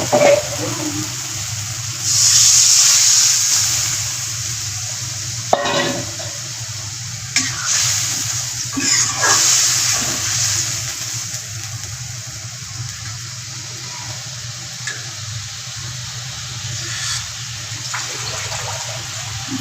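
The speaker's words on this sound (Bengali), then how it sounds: "এখন আমি পানি দিয়ে দেবো" Water poured into a pan of cooked fish curry masala for big kholisha fish, a loud hissing gush and sizzle near the start that settles into a steady bubbling simmer with occasional stirring clatter, close by.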